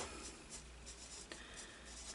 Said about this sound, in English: getting your pen on the journal or the piece of paper you want to write on, and just testing it